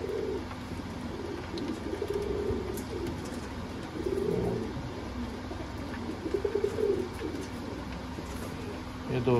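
Sialkoti breeder pigeons coo in soft, repeated low warbles over a steady background hum, with a few faint chirps scattered throughout.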